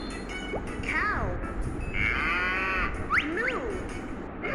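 Several drawn-out, wavering moos from a cow come one after another at close range, loud and clear over a faint background hiss.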